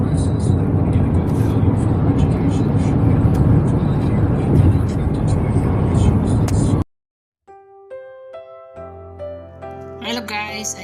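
Road traffic makes a loud, steady rumble and whoosh for several seconds, which cuts off abruptly into music.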